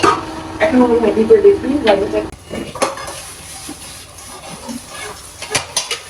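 Parathas frying in oil in a home kitchen, with stirring and scraping against a pan, utensil clinks and a soft sizzle, close and fairly loud at first, then quieter scrapes and clatter later.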